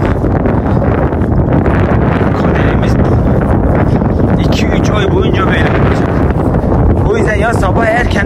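Strong wind blows across open countryside where sheep graze, constant heavy buffeting and roaring against the microphone throughout, with someone speaking faintly under the gusts toward the end.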